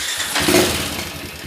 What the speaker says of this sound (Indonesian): Lalu saya nyalakan lagi mesinnya.